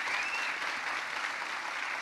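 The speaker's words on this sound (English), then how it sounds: "let's give these guys a round of applause" Audience applause at an E3 Coliseum gaming panel, a steady dense wash of clapping from a crowd holding at even loudness throughout, with no talk over it.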